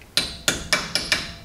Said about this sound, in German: jetzt muss ich das Hämmerchen doch holen